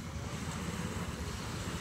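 A large fishing boat engine at sea gives a continuous low rumble mixed with wind and water wash, steady and fairly distant, with no voices.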